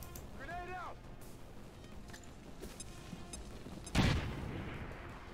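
A grenade explodes in the XCOM 2: Long War of the Chosen video game, one sudden loud blast with a decaying tail after quieter in-game sounds and a brief rising electronic tone.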